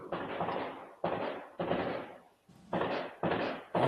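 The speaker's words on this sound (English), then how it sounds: "It's fireworks outside our house for some reason." Fireworks going off outside a house, heard from indoors as a series of five or six muffled booming bursts, each decaying over about half a second, spaced roughly evenly and moderately distant.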